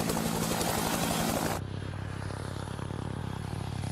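A helicopter's rotor noise, a dense, steady throbbing roar that is loud for the first second and a half and then drops to a quieter, sustained drone, with no talking.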